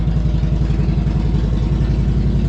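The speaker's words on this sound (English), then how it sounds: "Doesn't matter how many times you start your Harley up, it's always a good sound." A Harley motorcycle engine runs with a steady, low, lumpy idle and a rhythmic throbbing pulse, close and loud, with no voices over it.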